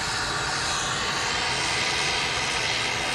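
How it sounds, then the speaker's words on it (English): An Airbus A350-1000 jet taking off roars at full power, a dense, loud, unbroken engine rush without any voices. "I always say you can see the power on the A350s. Just how quick they leap off the runway."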